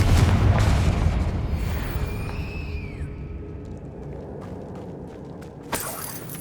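Confringo spell explosion in Hogwarts Legacy: a heavy booming blast at the start that rumbles and decays over a few seconds, followed by a quieter tail and a sharp burst near the end.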